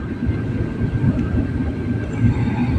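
A low, steady rumble of a Vande Bharat Express train at Nagercoil Junction station, with faint clanks and a thin high whine running through it; no voices.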